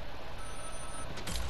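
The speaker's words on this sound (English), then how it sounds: "You hear that phone?" A telephone rings in the post-apocalyptic survival shooter game Vigor, a steady tone with faint background hum, audible for under two seconds before louder game noise rises.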